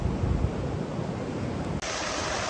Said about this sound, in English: We have mud and debris flow coming across PCH, flowing into the ocean right here from the burn zone.